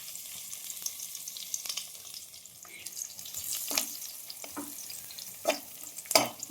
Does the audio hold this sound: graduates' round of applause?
no